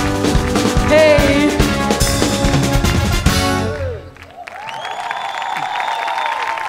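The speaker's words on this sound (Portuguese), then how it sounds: "Salve de palmas para nós" A Cabo Verde-themed carnival group's audience claps and cheers over loud music, then the music cuts out and thinner applause and crowd noise carry on.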